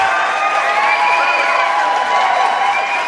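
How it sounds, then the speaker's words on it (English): Studio audience on a live show erupting in whistles, clapping, cheering and stomping, a dense sustained roar of crowd noise close and loud throughout. "all the whistles and the clapping and the cheering and the stomping and all that good stuff"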